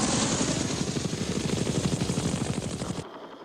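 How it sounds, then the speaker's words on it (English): A UH-1 Huey military transport helicopter passes with a loud, steady rapid rotor thump and broad engine roar, then cuts off abruptly near the end. No one speaks. "For the Army, the basic infantry transport helicopter was the UH-1 Huey."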